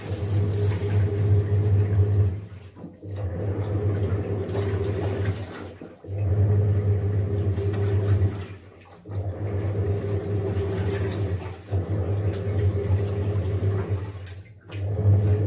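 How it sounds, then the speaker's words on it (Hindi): A 9.5 kg IFB washing machine fills and rinses a blanket, with a loud churning, sloshing hum in repeated cycles broken by brief pauses every few seconds as the drum reverses. "देखिए पानी भर चुका है और ये वापस से दोबारा सेकेंड टाइम रिंस करने लगा।"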